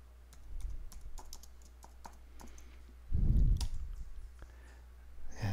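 A password is typed on a computer keyboard as a quick run of close, light key clicks, with one heavier burst of keystrokes partway through and no talking.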